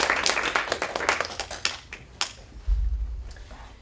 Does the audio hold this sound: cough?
no